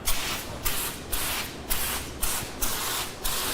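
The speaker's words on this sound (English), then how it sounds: "I want you to just go to town here and let's spray the car." An eFoam Pro 2 foam sprayer sprays a car in repeated bursts, about seven evenly spaced hissing pulses at close range, each with a sharp onset, over a low background with no talking.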